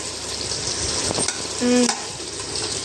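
Biryani with freshly added coriander being stirred in a pot in a home kitchen, a sizzling, frying wash with scraping spoon strokes and a brief metallic clink of utensil on the pot, close and fairly loud.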